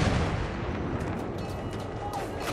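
Gunfire and heavy artillery-like blasts in a World War I battle in the video game Battlefield 1, a dense continuous rumble of shots and explosions with faint voices mixed in.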